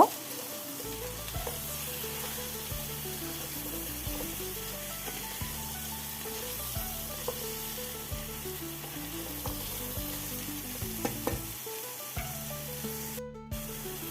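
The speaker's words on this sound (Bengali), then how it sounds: "এরপরেও খুব ভালো করে একটু নেড়ে চেড়ে নেব" Mixed vegetables for a Bengali panchmishali dish sizzle steadily in a pan while being stirred, with occasional scraping strokes, all under continuous background music.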